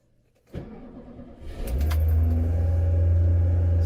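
A 1988 Lada Niva 4x4 engine cranks and catches on a cold start with the choke partly out, then settles into a loud, steady, raised-RPM idle as the throttle is held.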